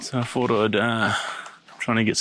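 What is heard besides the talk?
No distinct noise like a dog, phone or traffic.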